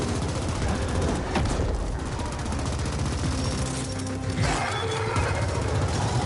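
Weapon fire in The Ascent, a dense, loud stream of rapid automatic shots and impacts over game music, with a brief break midway.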